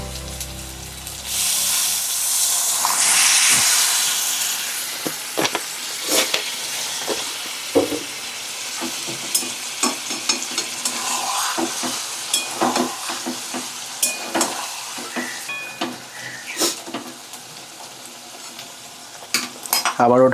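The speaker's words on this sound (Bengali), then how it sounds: "দিয়ে দেবো অল্প সামান্য জল।" Water poured into mutton keema frying in a pan sets off a loud, hissing burst of sizzle that settles to a steady simmer, followed by repeated scraping and clinking of a spoon stirring the pan, with no voices.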